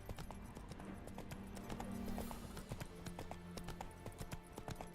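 Geralt's horse Roach in The Witcher 3 clip-clops at a steady trot with rhythmic, close hoof strikes, and a brief tonal sound swells in the middle.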